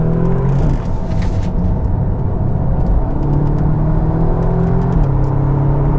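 Audi S3 pulling hard in second gear off a roundabout under load, a steady loud engine roar rising in pitch across the run, with a gear change near the end and a continuous rumble throughout.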